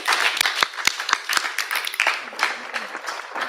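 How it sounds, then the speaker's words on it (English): An audience applauds after a presentation at a live-streamed event: many hands clapping in a brisk, uneven patter at moderate distance, steady for the whole stretch. "Maybe we let the applause go."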